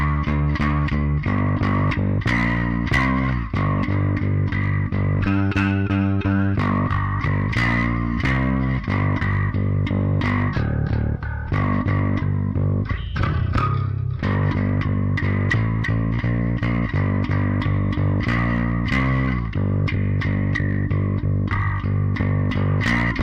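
Distorted high and low bass tracks for a black metal song play continuously and loud, a dense, gritty wall of low, chugging notes with a chorus-like shimmer and no voices.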